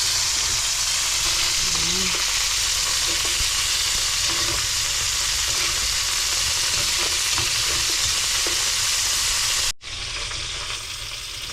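A whole lobster, so large it barely fits, fries in a kawali pan with a loud, constant close-up sizzle and crackle that cuts out briefly near the end before resuming.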